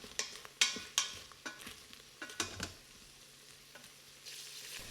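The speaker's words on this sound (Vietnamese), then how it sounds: "Nấu đến khi nồi sôi lên và nước cạn lại." Carrots sautéing in butter in a pot, a soft sizzle with several sharp scraping and stirring clacks of a utensil against the pot early on, then steady quiet frying.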